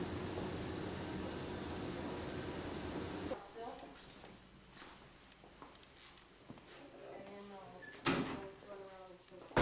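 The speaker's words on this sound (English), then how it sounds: "That was the door." A door opens or closes somewhere in a basement with a furnace during a paranormal investigation in Edmonton, heard as a few soft thuds and a sharper knock near the end over a steady air hum, with people talking at times.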